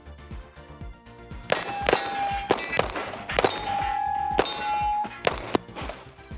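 Handgun shots striking steel targets during tactical training produce a rapid string of loud, ringing metallic clangs, several with lingering hum, close and clear with no talking.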